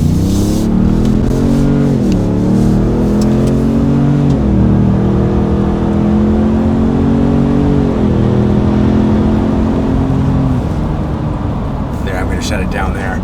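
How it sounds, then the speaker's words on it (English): Ford F-150 EcoBoost fitted with an MBRP single side exit cat-back exhaust, 2021 or later model, accelerating with a steady low drone that rises in pitch through several pulls, loud and close, with a voice talking over it. "Let's put our foot into it and let you guys hear it with a little bit of acceleration."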